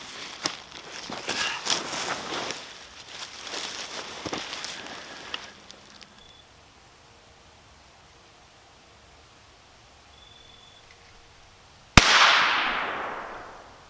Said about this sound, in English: I'm gonna take a shot at that golf ball.